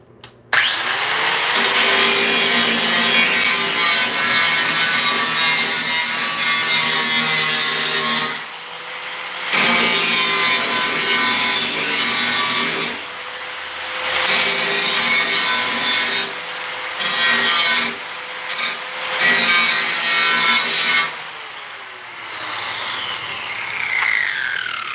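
A grinder works over the bodywork of a British classic car, a loud continuous abrasive whine and rasp that runs in long passes, pausing briefly several times before starting again.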